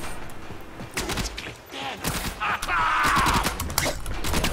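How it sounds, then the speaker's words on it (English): Gunfire in the Warframe video game, a few scattered shots and bursts at moderate distance, mixed with game effects and a faint voice underneath. "Someone's shooting me."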